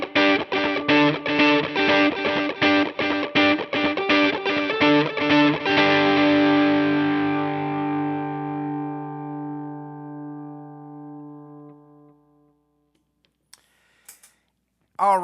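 A PRS SE Hollowbody II guitar on its neck pickup, run through effects, plays a rapid rhythmic strummed pattern, then one long chord rings out and fades slowly, followed by a few faint clicks.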